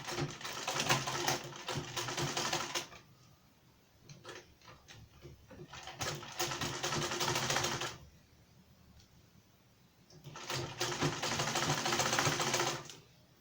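Three sustained runs of a sewing machine stitching four layers of a shirt collar together, each a few seconds long and close, separated by brief quiet gaps.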